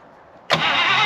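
A 1951 Buick Super, left sitting for 25 years, fires up after a near-silent moment and settles straight into a loud, steady idle close by.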